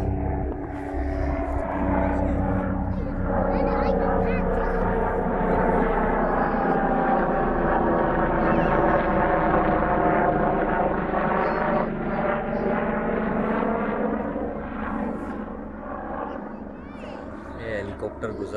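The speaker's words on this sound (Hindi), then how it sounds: "हेलीकॉप्टर गुजरा है" A helicopter passes overhead outdoors beside a canal where kids play football, a steady rotor and engine drone swelling and holding loud for most of the stretch, with voices talking over it.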